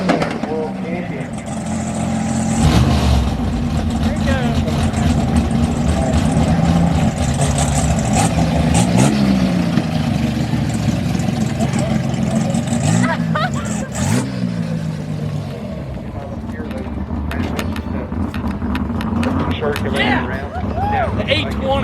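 A super stock drag racing car engine revving, loud and sustained with rising and falling pitch sweeps, mixed with crowd and announcer voices over a public address.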